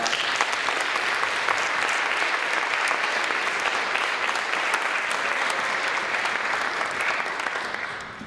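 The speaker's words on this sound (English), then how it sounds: "So can we please give them another round of applause?" A large audience in an old church claps loudly after a choral performance, sustained, dense applause that holds steady before tapering off at the end.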